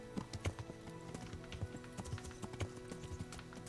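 Horse hooves clop in quick uneven beats in a video game, with a short neigh mixed into the soft background game audio.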